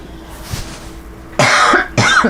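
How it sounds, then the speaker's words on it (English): A few harsh coughs, loud and close, from a woman in a tarot reading, with quiet room tone in between. "I've been coughing like crazy in these videos"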